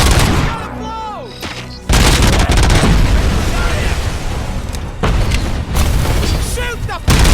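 Loud blasts and gunfire in RoboCop: Rogue City, a heavy boom near the start followed by sustained bursts of shots and explosive crashes, with shouting voices in the game over the din.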